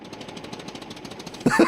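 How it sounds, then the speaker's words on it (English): A tractor engine chugs in rapid, even pulses at moderate loudness, and a voice speaks briefly at the very end. "This tractor reminds me of the truck in 101 Dalmatians"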